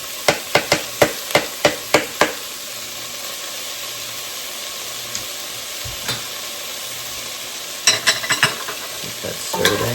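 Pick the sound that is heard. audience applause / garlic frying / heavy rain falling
garlic frying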